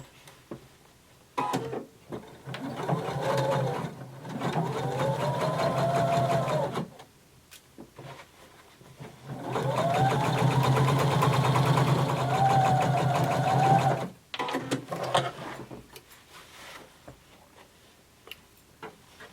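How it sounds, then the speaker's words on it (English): A sewing machine stitches a 5/8-inch denim seam in two long runs of rapid, rhythmic close-up whirring with a rising speed whine, separated by pauses and ending in a few short bursts. "you're going to sew 5/8 of an inch seam allowance."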